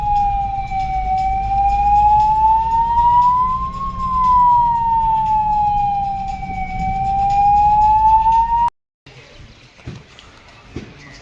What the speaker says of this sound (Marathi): पेशंट तपासायची गाडी आली हॉस्पिटलची ही माहिती होण्यासाठी सायरन लावावं लागतं आम्हाला